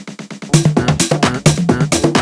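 Snare roll in a Latin tech house track with automated velocity, quiet quick hits at first then bursting louder into a punchy rhythmic pattern alongside a bass thump, crisp and close.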